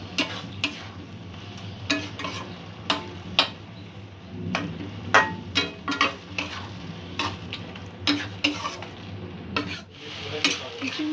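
A spoon stirs Bombay duck fish curry with ridge gourd and garam masala in a pan, scraping and knocking against the metal in a quick irregular rhythm over a soft continuous sizzle.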